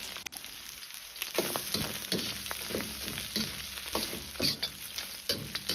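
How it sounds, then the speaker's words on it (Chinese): Goose meat stir-fried in a wok for a braised goose dish, giving a steady close crackling sizzle with irregular scraping clicks as the pieces are tossed and stirred, no talking. "煸炒至鹅肉水分渐少，表面有点焦黄"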